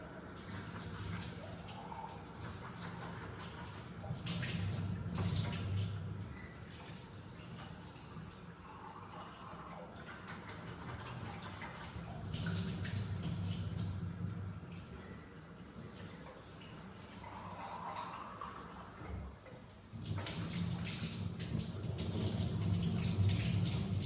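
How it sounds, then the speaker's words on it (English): Peas being rinsed under a running kitchen tap, a steady broadband water rush with swelling and easing surges as they are stirred, close and continuous, with faint low kitchen hum beneath and no clear talk. "I put them in here, then I start rinsing them."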